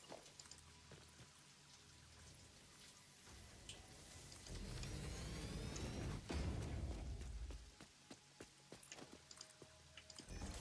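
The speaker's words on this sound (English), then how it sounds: "I love the rain in Satisfactory." Rain falling in the factory-building game Satisfactory, a faint hiss of drops and patter that swells into a heavier downpour midway, with scattered sharper taps and clicks on top.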